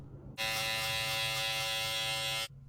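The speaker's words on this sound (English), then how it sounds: "The trimmer I'm using is the Babyliss Pro Gold FX." A Babyliss Pro Gold FX electric beard trimmer switched on for about two seconds, giving a steady, loud, close-up buzz that starts and stops abruptly.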